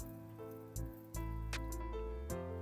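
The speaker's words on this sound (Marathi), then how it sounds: "पाणी घालूया थोडंसं त्यामध्ये आणि व्यवस्थित धुवून घेऊया" Moong dal is rinsed by hand in a little water, making faint squishing and soft sloshing sounds with a few sharper splashes over a low steady hum. No one talks.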